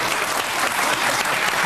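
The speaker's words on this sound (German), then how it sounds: "Applaus" Applause from a TV talk show studio audience, a loud, close burst of many hands clapping densely and evenly, short and without speech.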